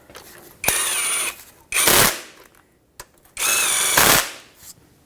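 On a 2012-2019 Fiat 500, a power tool snugs up the engine torque strut mount bolts. Four loud, close whirring bursts of differing lengths are separated by brief pauses.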